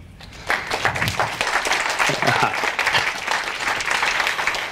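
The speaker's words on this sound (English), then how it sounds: "You won't be applauding when you see how fast this talk is going to go" A conference audience breaks into applause welcoming a microwave scientist to the stage, the clapping starting abruptly after a quiet moment and continuing as a loud, dense, steady patter.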